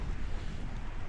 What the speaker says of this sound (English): The tent's rattling about a bit,